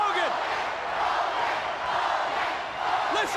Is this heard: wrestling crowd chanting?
yes